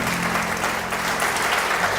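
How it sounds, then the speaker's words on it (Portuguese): Congregation applauding in a church service, steady dense clapping filling the whole stretch at even loudness, with no voices standing out. "pode aplaudir a palavra do Senhor"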